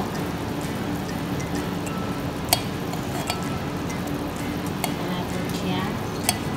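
Cauliflower simmers and is stirred in a pot of tinola, giving a steady sizzling, bubbling bed with a few sharp clinks of a utensil against the pot.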